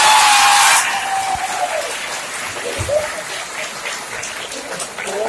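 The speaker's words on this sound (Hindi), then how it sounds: "आप आकाश पर तालियां एक बार बजाना" Audience clapping at a Hindi comic poetry recital, a loud burst of applause at the start that quickly thins into scattered claps under a noisy hall murmur.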